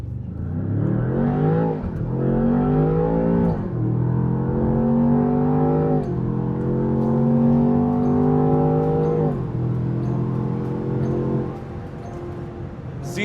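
Land Rover Defender Octa launching hard in drive and sport mode on off-road tyres, its engine loud and close, climbing through several rising gear pulls with brief dips at each shift before easing off near the end.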